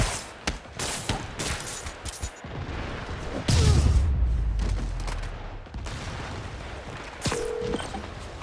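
Gunfire in Spider-Man Remastered crackles in rapid bursts and single sharp shots, close and loud, with a heavy boom and mechanical clatter partway through amid action noise.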